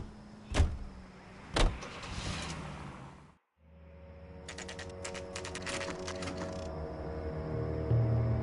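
A car in the game L.A. Noire, with a couple of sharp thumps like doors closing, a brief cutoff, then a steady engine hum joined by a rapid clicking patter as it drives.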